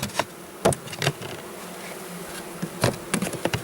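Honeybees buzz around a beehive during winter nest preparation and honey harvesting, a steady close hum broken by a few sharp knocks and clatters.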